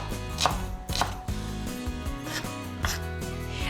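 A knife chops onion finely on a cutting board, giving quick repeated thuds with several sharper knocks, all close and steady under a low background hum, with no talking.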